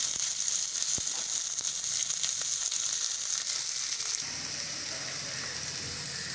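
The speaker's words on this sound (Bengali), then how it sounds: "এবার আমি এর মধ্যে পেঁয়াজ কুচোগুলো দিয়ে দিলাম।" Chopped onions fry in a pan, giving a bright, continuous sizzle that stays close and steady. It softens a little toward the end, with an occasional light knock, and no one speaks.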